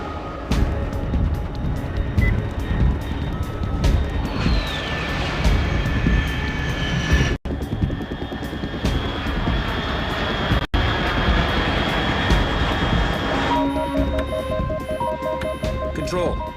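A fast jet aircraft roars overhead at altitude in Metal Gear Solid 3, a sustained loud engine rush with a sweeping whine, running alongside game music and other effects.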